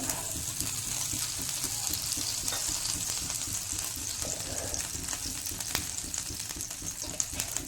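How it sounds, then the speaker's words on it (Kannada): Cold water sprinkled onto a hot dosa griddle for vegetable uttapam, giving a bright, steady hiss and sizzle with small crackles, close and fairly loud. "ಈ ಹಂಚಿಗೆ ಸ್ವಲ್ಪ ನೀವು ತಣ್ಣೀರನ್ನ ಈ ಥರ ಚುಮ್ಸ್ಕೊಳ್ರಿ."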